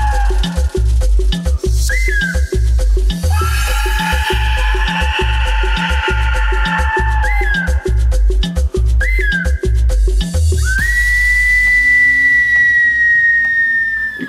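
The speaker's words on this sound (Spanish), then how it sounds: "con ese tipo de ocarinas, de silbatos, de flautas, ellos hacían lo que llamamos música" Pre-Hispanic clay whistles evoking a hurricane, shrill sustained and sliding tones over a steady pounding drum pulse, loud and continuous, ending in a long held whistle as the drumming stops.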